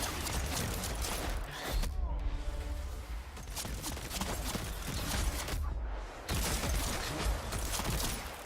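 Rapid machine-gun repeater fire from the video game Dauntless, a dense sustained stream of loud shots with two brief pauses, mixed with other game effects.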